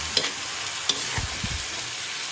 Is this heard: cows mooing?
no